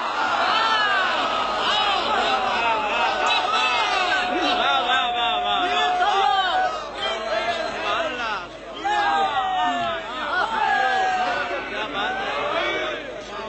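A crowd at a religious gathering honoring Allama Naseem Abbas Rizvi chants slogans in loud, rhythmic unison, repeated calls rising and falling over several bursts with brief lulls between.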